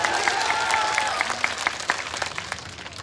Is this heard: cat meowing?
no